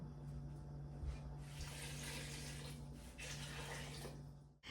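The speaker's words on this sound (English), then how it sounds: "I'm going to cover this with water." Water pours steadily into an electric pressure canner over vegetables for homemade soup, a continuous close rushing splash that runs unbroken for several seconds with no talking.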